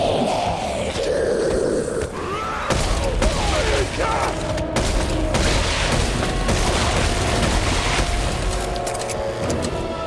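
A pump-action shotgun fired in the video game Dead Space 3: several heavy, booming blasts with game clatter between them and a voice talking over the action.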